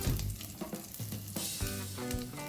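Slit green chilies and curry leaves fry and crackle in hot oil in a pan, with broad sizzling and a few sharp clatters of stirring over about two seconds, close and fairly loud, with no voices.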